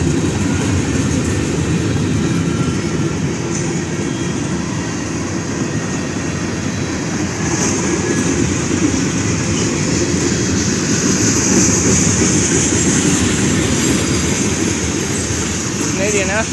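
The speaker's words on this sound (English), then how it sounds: "Canadian National 3103 freight train going through Effingham." A long, steady rumble of a Canadian National freight train, locomotive 3103, rolling past at close range through Effingham, loud and continuous with heavy low-end clatter throughout.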